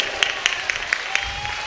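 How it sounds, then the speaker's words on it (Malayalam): A church congregation claps their hands in a quick, steady rhythm, with about half a dozen sharp claps heard close and moderately loud. "വിശ്വസിച്ച് കൈയടിച്ച് കർത്താവിന് മാത്രം കൊടുത്തേ."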